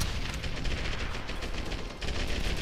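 Gunfire in the video game Medal of Honor Airborne, a dense, loud stretch of rapid automatic shots and booms, continuous with a brief dip near the middle, no voices.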